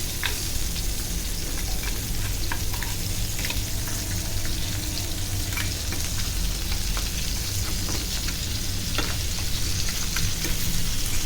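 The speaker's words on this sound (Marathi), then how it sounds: "दोन्ही बाजूने छान मस्त रंग बदलेपर्यंत परतून घ्यायचे." Stuffed crab frying on a hot tawa gives a steady, close sizzle with crackling pops throughout, loud and continuous with no voices.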